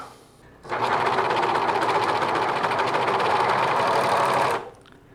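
A sewing machine runs a continuous seam along the shoulders of a grey sweatshirt, a loud close rattling whir that starts abruptly, holds steady for about four seconds, then cuts off.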